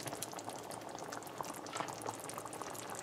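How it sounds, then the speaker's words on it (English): Squash curry with chicken boils in a covered pot, a steady faint bubbling and popping throughout. "we're gonna cover this back and let it cook some more"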